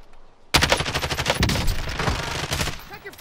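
Rapid automatic gunfire in a video-game firefight starts after a brief quiet moment and goes on as dense, loud, close bursts for about three seconds.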